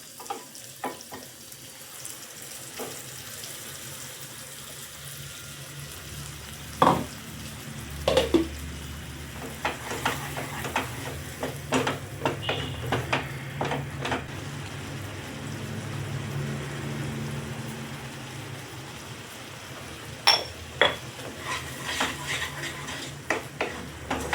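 Tomato puree with chili flakes and mixed herbs cooking in a pan for red pasta, a low steady sizzle broken by sharp clinks and scrapes of a spoon stirring against the pan.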